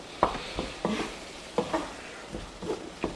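Onions, garlic and mushrooms sauté in butter in a pan, with a quiet, steady sizzle broken by several distinct stirring scrapes.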